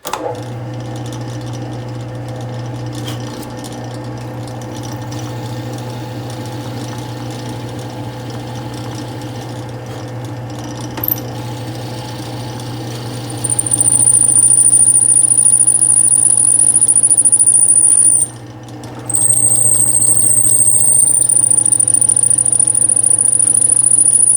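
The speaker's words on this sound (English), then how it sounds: "I'm drilling the holes. This is my knife handle wood." A steady mechanical drone with a constant low hum, later joined by a loud high-pitched whine that cuts out briefly, then resumes. No talking.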